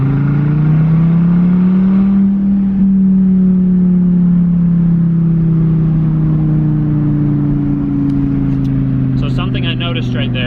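A Gen 5 Dodge Viper with falling oil pressure pulls to high RPM, a loud deep engine drone whose pitch climbs and holds steady, with a faint rattle toward the end.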